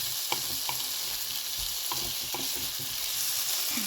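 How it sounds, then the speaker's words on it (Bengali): Potato and pumpkin pieces frying in a pan with salt and turmeric, a dense continuous sizzle heard up close with occasional soft clicks of a spoon stirring, no one speaking. "এবার ভালো করে আমি ভেজে নেবো আলু আর কুমড়োটা।"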